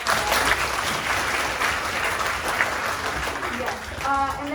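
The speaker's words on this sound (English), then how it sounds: "Can we please give a round of applause for them?" Audience at a Microsoft Ambassadors event applauding, a steady, moderately loud round of clapping from many hands, with a voice starting to speak over it near the end.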